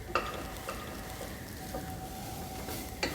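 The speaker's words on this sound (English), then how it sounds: "And we stir it for a little while longer until the cabbage is cooked." Cabbage being stirred and sautéed in a pan as a tempered Sri Lankan dish, a low steady sizzle with a few soft scraping stirs near the start and end, close and fairly quiet.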